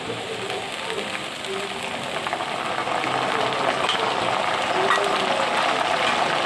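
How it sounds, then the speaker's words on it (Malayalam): Breadfruit (kadachakka) pieces fry in hot oil, a steady hissing sizzle that holds throughout and grows slightly louder toward the end. "ഇത് പരിപാകുമ്പോൾ നമുക്ക് ഉപ്പിട്ട് വറക്കാം"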